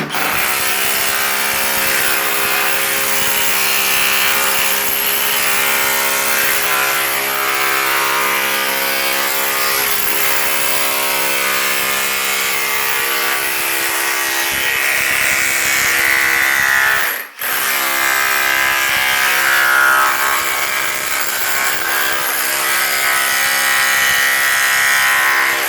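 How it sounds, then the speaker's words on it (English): A power chisel hammers at a cracked floor tile, a loud, continuous rapid rattling that runs almost nonstop for about twenty-five seconds, broken only by one brief pause near the end, with no talking. "I can use just the flat chisel, put it straight on top of the tile, and that'll give me a crack"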